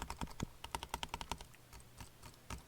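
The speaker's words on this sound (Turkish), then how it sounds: "Sonra mouse sesimi dinleteyim şimdi hemen." Rapid computer mouse clicking using the butterfly technique, a fast run of sharp, close clicks that slows, pauses briefly, then returns as scattered clicks, faint and without speech.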